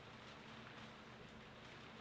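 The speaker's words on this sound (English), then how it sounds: "It's raining out there." Rain falling outside, heard indoors as a soft, steady hiss that stays constant throughout with no voices.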